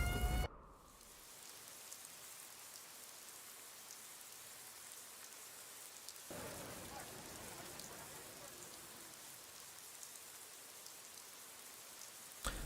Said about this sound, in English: A rainstorm.